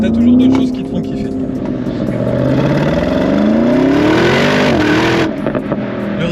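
Porsche Cayenne Turbo GT with a biturbo V8 revving hard, a loud close engine note that climbs steadily in pitch through an acceleration, then drops off with a burble near the end.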